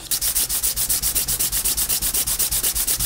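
Rhythmic back-and-forth rasping of 400 grit sandpaper on a hard plastic-like material made from napkins and glue, steady even strokes close up with no talking.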